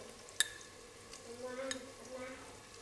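Chili powder and garam masala sautéing with tomato in a pan for mutton curry, giving a quiet close sizzle with a sharp spoon clink and soft stirring scrapes.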